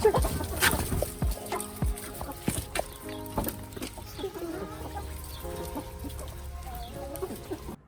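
Backyard chickens kept by a family give soft, scattered clucks and short calls at moderate distance over a quiet outdoor background, with no talking.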